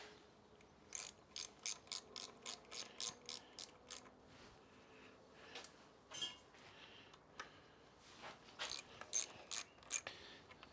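A ratchet wrench runs the small clamp bolts down on the front wheel of a 2004 Honda CRF250X dirt bike. Quick bursts of close, crisp clicking come in a steady rhythm, with short pauses between the runs.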